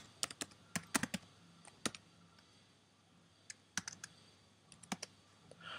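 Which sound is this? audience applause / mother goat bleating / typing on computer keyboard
typing on computer keyboard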